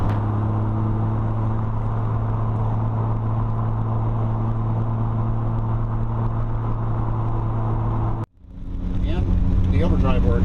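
A 1973 Triumph TR6 sports car cruising with a steady engine drone and road rumble, then a brief dip as it shifts into overdrive before the engine note settles again; someone talks throughout over the sound.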